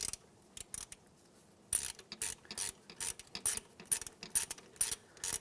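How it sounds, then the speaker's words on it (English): A hand ratchet tightens the power steering pump bolts on a 2003-2011 Honda Element, with close, quiet bursts of rapid clicking and short pauses between strokes. "We're just going to tighten that, snug it, tighten it, give it an extra little quarter turn."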